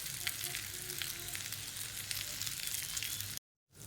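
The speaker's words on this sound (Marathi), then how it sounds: "1 ते 2 मिनिट चांगल्या परतून घ्यायच्या गॅसवर" Jowar mutke with fenugreek leaves sauté over a gas flame, a close, crackling sizzle with scattered pops and stirring that runs steadily, then cuts out abruptly near the end.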